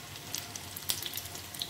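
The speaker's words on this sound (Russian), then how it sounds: "Так, мы заканчиваем жарить наши блинчики." Soft, steady sizzling of pancakes frying in a pan, with small crackles and pops scattered through it, fairly quiet and close.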